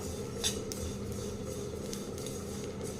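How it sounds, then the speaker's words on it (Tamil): Sesame seeds dry-roasting in a pan for sesame balls give off a steady crackle of small pops and faint clinks close by, with no talking. "அந்த பொரியிற சவுண்டு கேட்குதுங்களா இப்போ எள்ளு வந்து நல்லா வறுபட்டுருச்சுங்க"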